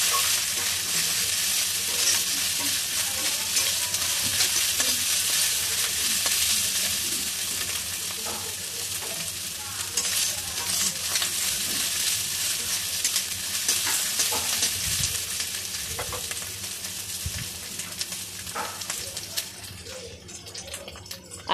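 Ginger garlic paste sizzling in hot oil with fried onion paste, a steady close frying hiss broken by repeated stirring scrapes of a spoon in the pan, with no voices.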